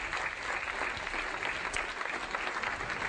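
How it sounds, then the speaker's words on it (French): Audience at a children's magic show applauding a young boy called up onto the stage, a dense, steady clapping that fills the room without pause for about three seconds. "Vous pouvez l'applaudir très fort, c'est Kevin"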